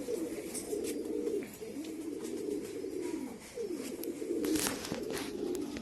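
A king-size pigeon coos in repeated low, rolling phrases, close and clear, with no talking over it.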